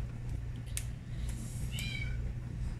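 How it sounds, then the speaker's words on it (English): A cat meows a few times, short and fairly close, over a low steady background hum in an otherwise quiet room. "I don't know if you can hear her meowing or not."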